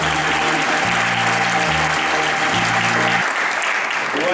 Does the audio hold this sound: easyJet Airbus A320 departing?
no